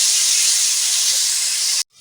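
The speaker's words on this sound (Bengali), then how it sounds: "মাছ ভাজা হয়ে গেছে এবার দিয়ে দেব এই তেলেতেই আলু নুন হলুদ মাখিয়ে রাখা আলু" Potatoes coated with salt and turmeric drop into hot oil left from frying fish, giving a loud, steady hiss of sizzling that cuts off abruptly near the end.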